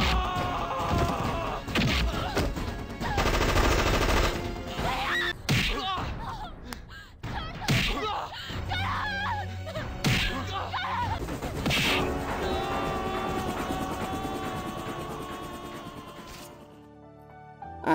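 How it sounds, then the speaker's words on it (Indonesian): Gunfire and fighting from an Indian action film, with loud thwacks, crashes and impacts layered over a dramatic music score that runs nearly the whole time and fades out at the end. "Lalu Jalal ingin menembak Puja, tapi dihadang oleh Parma, dan pertarungan pun kembali terjadi"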